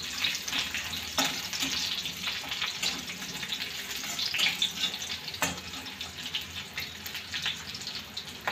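Onion, green chilies and curry leaves sauté in a pan for a Maharashtrian tomato chutney, giving a steady close sizzle with occasional sharp clicks of stirring, no talk over it.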